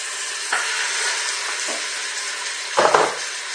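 Chicken pieces browning in hot oil in the bottom of a pot: a steady, close sizzle with occasional clinks of utensils against the pot, and a sharper clatter near the end.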